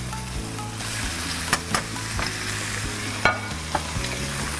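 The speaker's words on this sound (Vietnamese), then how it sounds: "chúng ta chiên vàng." Chicken breast fries in a hot pan with a loud, constant close sizzle, broken by a few sharp utensil knocks and scrapes as it is stirred.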